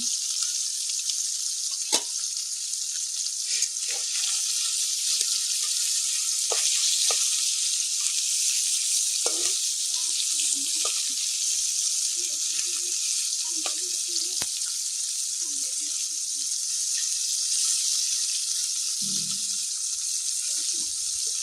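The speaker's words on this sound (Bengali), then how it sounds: "মাছগুলা ভেজে নেওয়া হচ্ছে তরকারি রান্না করার জন্য" Small tengra fish frying in hot oil for a curry: a steady, bright hiss of sizzling throughout, with occasional soft clinks and stirring knocks close by.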